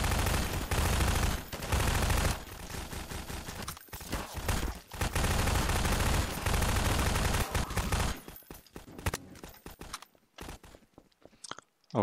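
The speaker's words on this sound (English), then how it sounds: "We want automatic fire." Automatic gunfire from an airship in the Garry's Mod video game: dense, loud bursts of rapid shots over about eight seconds, then thinning into sparse scattered pops and a quieter tail.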